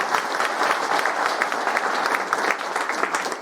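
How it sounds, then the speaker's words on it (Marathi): Steady, dense applause from a crowd of former classmates honouring their teachers at a 1991-batch high school reunion in Tembhurni, continuous and fairly loud throughout with no speech. "त्यांच्यासाठी एक जोरदार टाळ्या"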